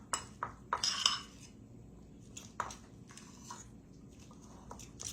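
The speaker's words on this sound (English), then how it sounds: "Just start mixing it in. With the back of your fork." A fork presses and mashes deviled egg yolk filling against a bowl, giving a few light metallic clinks and scrapes close by, separated by quieter stretches of soft mashing.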